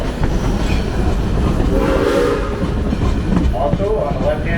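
Excursion train behind BR&W No. 60 near Flemington, New Jersey, rolling with continuous heavy rumble and wheel clatter, while a horn sounds midway over the running noise.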